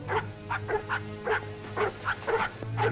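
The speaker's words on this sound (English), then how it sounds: "It's a dog. He's hurt. He's limping." An injured, limping dog gives a rapid run of short barks and whimpering yelps, about eight in three seconds, fairly close, over a low steady hum.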